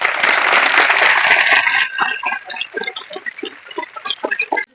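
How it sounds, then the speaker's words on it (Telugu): A group of schoolchildren at a girls' municipal school claps together, a dense burst of applause that quickly thins into scattered, uneven claps before fading out. "సంతోషంగా ఉన్న వాళ్ళందరూ క్లాప్స్ కొట్టాలి"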